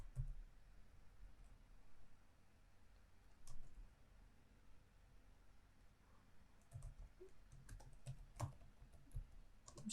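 Soft, quiet clicks of fingers typing on a computer keyboard, with uneven bursts of keystrokes and short pauses between them.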